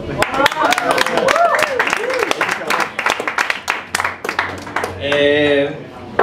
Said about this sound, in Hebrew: כשאני שותה זה סימן למחיאות כפיים